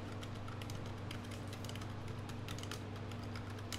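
Fingers tap on a computer keyboard in a steady, fast run of light clicks, faint and close over a constant low hum, with no talking.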